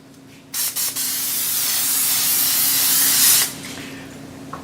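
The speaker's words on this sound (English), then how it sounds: "Gonna give that a little spray oil." Cooking oil sprays from a can onto taco shells in a steady hiss lasting about three seconds, opened by two short bursts and heard up close.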